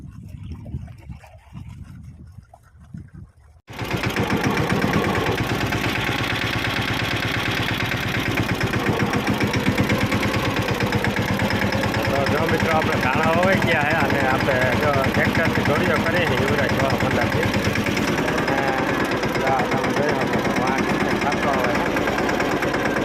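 A Yuvraj 215 mini tractor engine runs steadily and loudly while making a field channel, a continuous mid-pitched chugging drone that starts abruptly and holds without pause.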